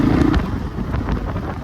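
Strong mountain wind buffets the microphone in a low, rough roar with uneven gusts, loud and close, and no other clear sounds.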